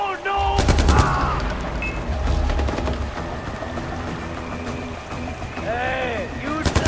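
Gunfire in the video game Far Cry 4 comes as loud rapid bursts near the start, then a steady background din, with someone speaking over it.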